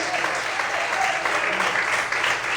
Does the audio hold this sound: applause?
yes